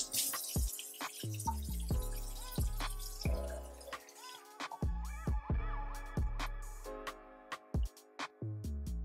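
Cold water runs and splashes into a pot of chicken in uneven pours, with clinks and drips between streams, close by and fairly quiet.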